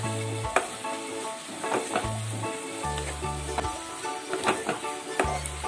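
Grated carrot and sugar being sautéed in a pan for carrot ladoo, a steady close sizzle broken by repeated scraping stirs of a spoon against the pan.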